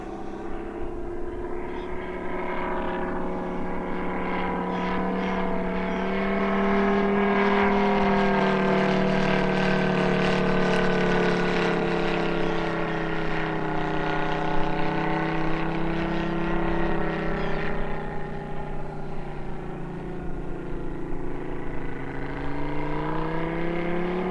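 A TopRC T-28 Trojan, a full-composite 111-inch RC model with a UMS 180 engine, runs steadily and loudly with a droning, harmonic buzz that swells slightly in pitch and volume partway through, no voices heard.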